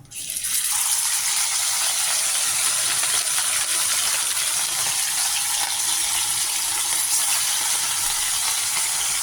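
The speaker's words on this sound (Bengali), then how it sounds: "এবার আমি মাছগুলোকে এক এক করে ভেজে নেব।" Rohu fish pieces rubbed with salt, turmeric and mustard oil fry in hot oil, a loud steady sizzle that starts abruptly and holds unbroken, close up, with no talking.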